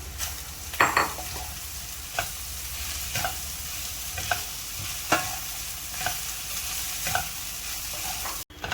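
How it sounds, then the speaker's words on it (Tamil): Ground mutton and onion are stirred and sautéed in a pan for mutton thool curry, with a steady sizzle and regular spoon scrapes roughly once a second, close and moderately loud, with no talking. "இப்போ நம்ம அரைச்சி வச்சிருக்கிற மட்டனை வெங்காயத்தோடு மிக்ஸ் பண்ணி ஒரு 10 minutes நல்லா வதக்கி"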